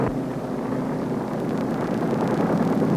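A helicopter carrying re-entry parties away from the ship Rendova after an atoll bomb test, heard as a steady low rotor and engine drone with a faint rhythmic chop.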